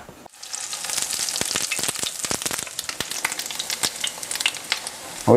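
Coconut-flake-coated fish fillets frying on a stove in hot oil, a close, continuous crackling sizzle with sharp pops that starts abruptly and keeps going, with a clatter at the very end.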